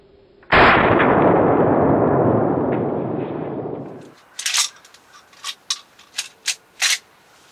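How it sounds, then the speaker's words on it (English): A single loud gunshot fired at a groundhog during a spring turkey hunt in Indiana cracks out close by and rings into a long fading tail, followed by a string of short, sharp clicks and knocks. "not long after I shot the groundhog"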